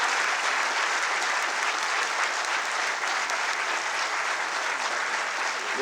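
An audience at an annual academic session with cadets standing applauds, with dense, sustained clapping at steady volume from start to finish that fades slightly at the end.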